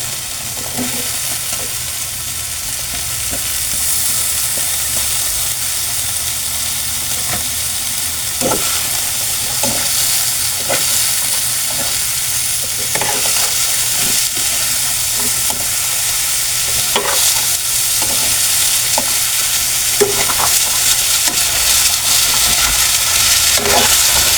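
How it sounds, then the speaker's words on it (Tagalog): Chayote sautéing in a pan for Filipino ginisang sayote: a steady, loud sizzle of frying throughout, broken by light clicks and scrapes of stirring. "At ilagay na po natin yung ating sayote"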